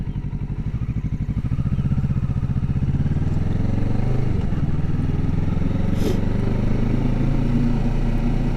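A motorcycle engine chugs steadily and then drops in pitch as the rider shifts down into first gear while coming to a stop, loud and close.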